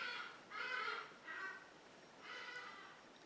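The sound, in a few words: birds calling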